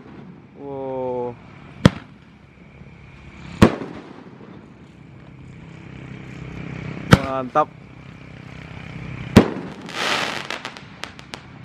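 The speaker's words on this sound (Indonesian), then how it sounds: "Pesta kembang api tahun baru meriah." Roman candle fireworks, sizes 1.8 and 1.9 super jumbo, are set off on New Year's Eve, firing several sharp, loud bangs spaced a second or two apart. Whistling launches and crackling trails come between the bangs, and a voice speaks briefly.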